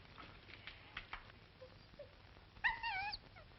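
A dog whimpers over a piece of meat it has been offered: a few faint soft sounds, then a short, high, wavering whine near the end.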